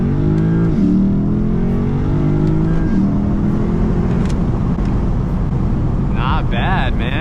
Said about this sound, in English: even the induction noise stock sounds pretty good